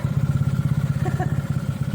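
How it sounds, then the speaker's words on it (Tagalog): A motorcycle's faulty turn signal flasher ticks in a fast, uneven pulse close by, with a low idling engine throbbing underneath and no voices. "Yung tunog doon sa motor ko is iba, parang pulik-lik talaga na hindi mo maintindihan."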